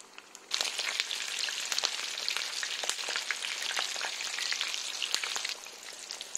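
Green peppers frying in hot oil, a close, steady crackling sizzle that starts abruptly and continues with scattered pops and spits.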